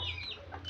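A white desi hen that has gone broody makes soft, faint clucking sounds close by over a low background hum.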